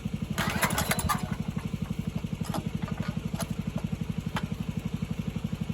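A single-cylinder diesel engine, salvaged from a vibratory compactor and fitted to a Sears tractor, pull-starts with a rough clatter and settles into a steady, loud, chugging idle with an even rapid thump.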